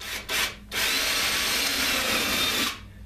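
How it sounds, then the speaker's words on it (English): Power drill with a countersink bit boring into wood while building a bluebird house: a short whirring burst, a brief pause, then a loud sustained grinding whine for about two seconds before it stops abruptly. "And then you can take your drill here"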